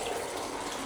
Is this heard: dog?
no